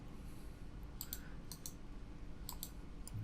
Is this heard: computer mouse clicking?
yes